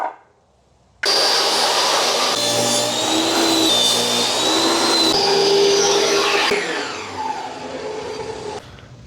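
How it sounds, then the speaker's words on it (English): A power tool trims a clearance wooden board, starting abruptly with a loud, sustained whining roar close by, pitch shifting slightly as it cuts, then easing down before stopping near the end. "to start, we gotta get this board trimmed up"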